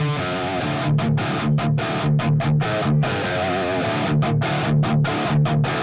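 High-gain distorted electric guitar with the mid-range boosted too far, giving a honky tone, playing chugging palm-muted riffs in a rhythmic metal style, loud and alone.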